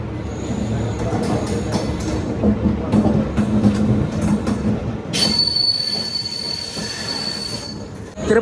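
The Tirupati Express LHB train rolls into the station with loud, sustained wheel squeal and rumbling carriages. A bright, high screech rises near the end, and no one speaks.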